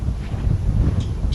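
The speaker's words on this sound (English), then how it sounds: "It's getting windy." Wind gusts at a farm ahead of a thunderstorm, a loud, low, steady rumble of wind buffeting the microphone with no clear breaks.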